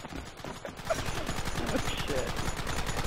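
Rapid Gatling gun fire in a video game, a dense continuous stream of shots rolling loud and unbroken across the clip, with voices talking over it at times.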